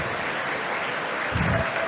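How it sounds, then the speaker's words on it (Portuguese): A conference audience in Brasília applauds an MIT professor taking the stage at a technology event, giving a brief, even burst of clapping that is loud and continuous throughout. "Melissa Webster, para que eu peço muitas palmas"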